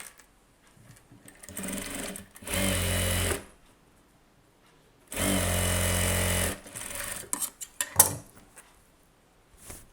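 Sewing machine stitching a blouse seam runs in two loud, sustained bursts of whirring, about a second each, separated by quiet gaps, followed by scattered clicks and handling knocks near the end.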